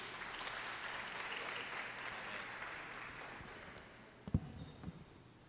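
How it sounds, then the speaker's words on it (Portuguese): A church congregation applauding during a worship service, dense clapping that slowly fades out, followed by a few faint thumps and handling noises at the end, fairly distant and quiet. "Você pode aplaudir ao Senhor Jesus?"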